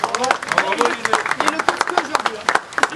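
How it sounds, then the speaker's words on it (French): A small group claps for a swimming coach, scattered distinct hand claps mixed with cheering and overlapping voices, fairly close and lively over about three seconds. "Je pense qu'on peut l'applaudir."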